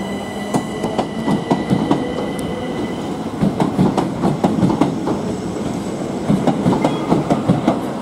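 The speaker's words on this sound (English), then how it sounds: "There you go, 377, 126, depart Hastings for Brighton." Southern Class 377 electric train departing Hastings for Brighton, rhythmic clickety-clack of wheels over rail joints with rumbling carriages and faint squeals, loud and close as it pulls away, no speech.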